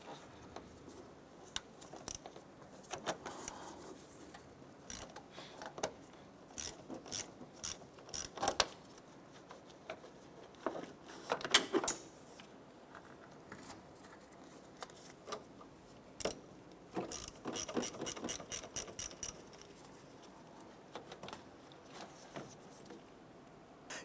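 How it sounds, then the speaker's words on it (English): A ratchet with a 10 mm socket clicks in quick bursts while loosening the battery terminals on a 2006-2013 Chevrolet Impala. The close, sharp ratcheting comes in separate runs with pauses between them, and no one speaks. "a 10 millimeter socket and ratchet, we're gonna go ahead and loosen and remove our battery terminals"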